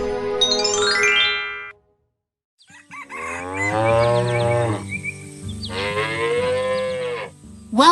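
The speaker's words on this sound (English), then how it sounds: "our gentle cow friends are enjoying a peaceful morning near the barn" Cows mooing near a farm barn, with a rooster crowing at the start, then two long, loud, drawn-out moos close by against quiet farm background.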